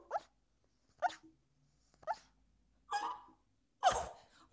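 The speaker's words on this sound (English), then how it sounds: "this puppy's barking in his sleep" A sleeping puppy letting out five soft, muffled little barks or yips at roughly one-second intervals, close by, the last one slightly stronger.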